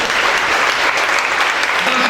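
A church congregation claps together in a brief, loud burst of applause, dense and continuous throughout.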